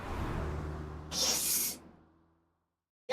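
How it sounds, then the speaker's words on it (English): A spray bottle hisses out a steady broadband burst for about half a second inside the game AI: The Somnium Files - Nirvana Initiative, over a low game hum that fades into silence before a brief voice at the very end. "Doesn't matter how far away I move, the spray bottle never stops."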